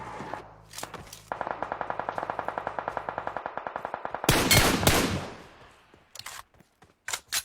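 Rapid automatic gunfire rattles in a long, evenly spaced burst in PUBG Mobile, aimed at a bot, then gives way to a few louder scattered shots and short bangs near the end.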